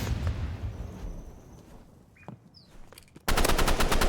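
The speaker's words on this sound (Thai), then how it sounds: "โอ้โหยิงโหดซะด้วย" Rapid automatic gunfire in the video game Roblox, a loud, dense burst that starts abruptly near the end after quieter game noise and a few faint electronic tones.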